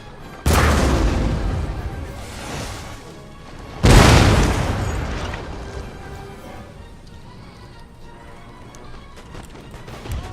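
Artillery fire in the Napoleonic-era strategy game Napoleon: Total War, Egypt campaign: two heavy, close cannon booms about three seconds apart, each rolling into a long rumbling decay over a low battlefield din.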